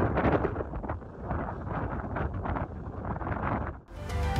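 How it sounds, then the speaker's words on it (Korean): Strong wind buffets the microphone on a hilltop in Taebaek, a loud, continuous rushing roar with gusty swells, a brief lull near the end, then renewed blowing. "바람 소리 한번 들어보시겠어요?"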